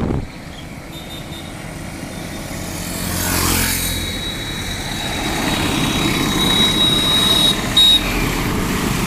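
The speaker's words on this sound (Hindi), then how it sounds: "ये देखिए ट्यूनिंग किया जा रहा है इंजन का" A Bajaj Pulsar motorcycle engine runs steadily during tuning for poor mileage, a continuous close idle drone that swells slightly partway through, with a thin whine and a brief click near the end.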